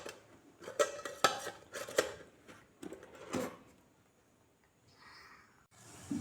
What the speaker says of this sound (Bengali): এবার টিফিন বাটিটা আমি ঢাকা দিয়ে দেবো।